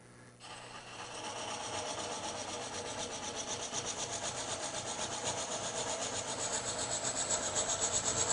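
An Easy Core coring cutter turning slowly with light pressure bores into wood, producing a steady rhythmic rasping scrape that grows slightly louder and more pulsing as the cut deepens, with no talk.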